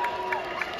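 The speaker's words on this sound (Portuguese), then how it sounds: "Torcidinha que comemora." A small group of football fans cheers at Arena Joinville after a goal, a brief, moderately distant burst of shouts and clapping over steady stadium murmur.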